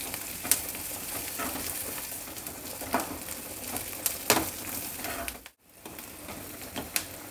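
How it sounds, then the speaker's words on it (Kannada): Curry leaves sizzle in hot tempering oil after onion and garlic, a continuous crackling fry with sharp spits and pops, then a brief drop to near silence before the sizzle resumes. "ಈಗ ಕರಿಬೇವಿನ ಸೊಪ್ಪು ಹಾಕ್ತಿದ್ದೀನಿ."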